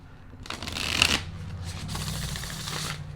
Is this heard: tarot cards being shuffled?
yes